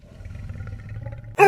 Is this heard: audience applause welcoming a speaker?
no